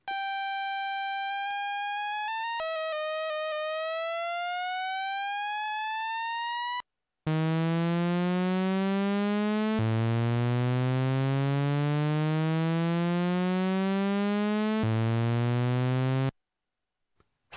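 Shepard tone patch on a Waldorf Blofeld synthesizer with only oscillator 1 sounding: steady rising buzzy tones that keep gliding upward, a higher sweep first, then a lower, fuller section after a brief gap, with no talk.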